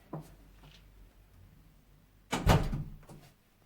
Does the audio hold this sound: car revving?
no